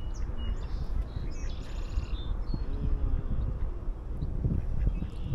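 Ducks call outdoors in a windy open area, with faint, scattered quacks and chirps sounding distant under a steady rush of wind and low rumbling noise.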